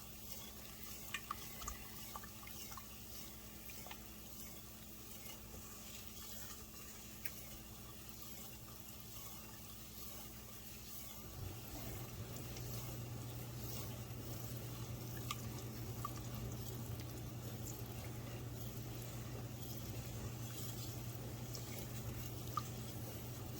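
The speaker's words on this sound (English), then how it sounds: "stirring and scraping the bottom of that pan real good" A gumbo roux in a pan being stirred and scraped steadily along the bottom, a soft continuous scraping and sizzling texture that grows denser partway through, with no talking.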